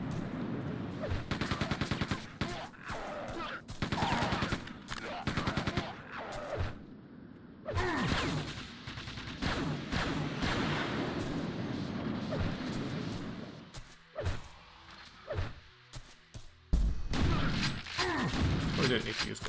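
Quake II gunfire, rapid bursts of sharp shots and heavy weapon blasts in dense clusters, loud and close, with brief gaps and a few louder booms, while someone talks over the combat.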